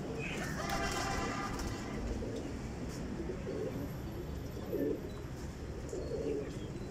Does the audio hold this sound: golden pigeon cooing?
yes